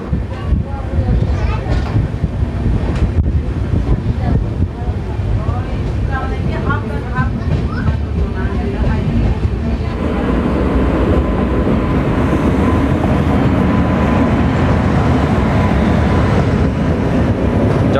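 The Hirakhand Express pulls out of Laxmipur Road railway station on its monsoon run from Rayagada to Jagdalpur. A loud, steady rail rumble and clatter runs throughout, with wind buffeting and a denser roar building in the second half.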